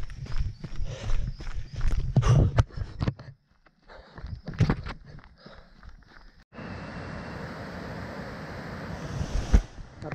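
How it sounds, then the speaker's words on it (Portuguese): A cascading waterfall beside a 55 km mountain trail route sets up a steady broadband rush that swells in after several seconds of crunching footsteps, continuing loud and unbroken. "o barulho, uma cascata"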